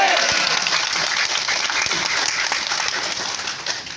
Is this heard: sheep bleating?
no